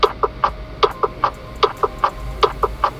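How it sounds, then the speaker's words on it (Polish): A Citroen C4 1.6 HDI turn signal chime set to the Jungle Fantasy tone, a bird-like clucking chirp repeated in a steady rhythm of paired pulses, clear and close with no talk over it. "Chcecie stać w korkach z towarzyszeniem odgłosu kierunkowskazu o nazwie Jungle Fantasy?"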